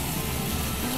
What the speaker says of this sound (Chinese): 我哋今日呢個煲仔，我哋炒咧就用紫洋葱啊